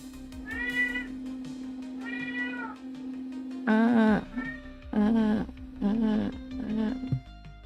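Several cats meow close by, about seven drawn-out, rising-and-falling calls in a loose series, some louder and more insistent, over a steady low hum.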